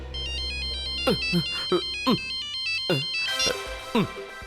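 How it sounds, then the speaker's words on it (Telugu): Mobile phone ringtone playing a repeating melodic tune, loud and close, with a steady rhythmic pattern of chimes over a low hum, in a TV crime drama scene. "ఫోన్ ఎక్కడి నుంచి ప్రణీత్?"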